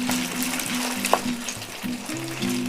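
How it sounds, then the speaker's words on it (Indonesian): Beef pieces frying in a small amount of oil for a stir-fried beef with bell pepper dish, a steady broadband sizzle running throughout with a faint tonal hum underneath and one brief clink partway through. "Ini digoreng sampai matang, tapi tidak sampai kering ya."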